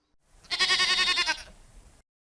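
A single sheep gives one loud, quavering bleat lasting about a second, close and alone.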